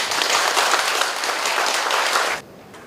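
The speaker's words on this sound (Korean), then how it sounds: "여러분 그래도 우리 박수 한번 보내죠." An audience at a memorial ceremony for President Kim Dae-jung breaks into dense, full applause that holds steady for a couple of seconds and then cuts off sharply, leaving quiet.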